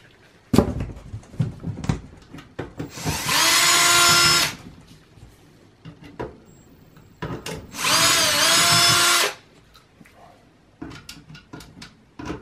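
A power screwdriver whirs in two sustained bursts of about a second and a half each, backing out the rear power-supply screws on a Lenovo ThinkCentre M92p/M91p desktop, with small clicks and handling taps around them.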